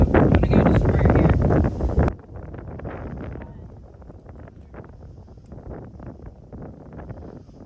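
Headwind gusting across an open disc golf course, a loud close buffeting roar on the microphone for the first two seconds, then dropping to a softer steady rustle under faint speech.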